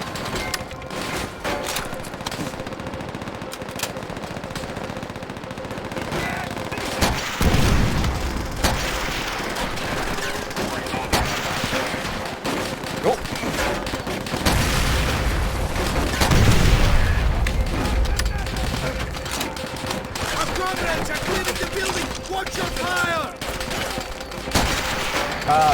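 Sustained chaotic battle in Call of Duty: World at War, with dense rifle and machine-gun fire crackling throughout and heavy grenade blasts booming around the middle, all loud and close.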